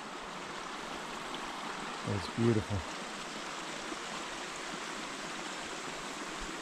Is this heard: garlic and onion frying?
no